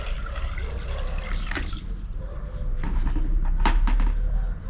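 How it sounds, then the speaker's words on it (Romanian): Water is poured into a pot of smoked pork hock being readied for boiling into Romanian jellied pork, with a continuous splashing trickle, a few sharper drips and clunks, and no talking. "Trebuie să mai completez un pic cu apă."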